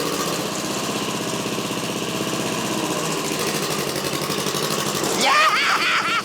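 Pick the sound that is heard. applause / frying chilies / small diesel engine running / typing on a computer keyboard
small diesel engine running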